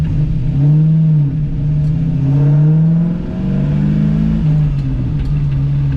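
A 1978 Pontiac Trans Am built by Roadster Shop accelerates while being driven, its engine note rising and falling in a loud, close, continuous drone.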